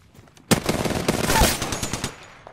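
Automatic weapon fire from a match of the video game Apex Legends, rapid bursts starting abruptly and continuing densely for about two seconds, loud and close, then cutting off.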